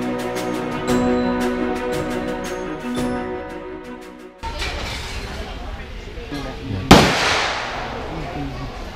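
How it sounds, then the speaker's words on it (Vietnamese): Gunfire from a shooting range at the Cu Chi tunnels in Vietnam: sharp loud reports and bursts ring out over a background of ringing metallic tones and murmuring voices, with one strong close crack near the end. "Các anh chị đang nghe đó là tiếng súng,"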